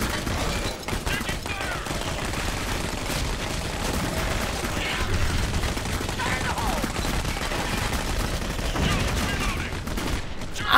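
Gunfire in the video game Clive Barker's Jericho, with dense, continuous volleys of shots and blasts filling the whole stretch, loud and busy, with occasional voices in the mix.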